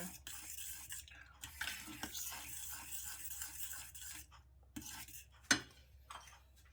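Stirring sago pearls cooked with salt using a spoon, a soft continuous scraping and swishing that runs through most of the stretch, with one sharp clink of the spoon against the pot near the end.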